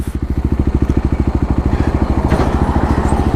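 A Kawasaki KLX250 motorcycle engine runs steadily nearby, its single-cylinder thump pulsing in an even, rapid rhythm that holds constant throughout with no voices over it.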